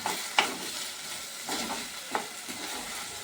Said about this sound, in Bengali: চালটাকে একটু ভাজা ভাজা করবো, বেশি জোরে করে গ্যাসটা করবো না